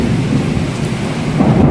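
A brief, loud rumble of thunder rolls through a steady downpour of rain.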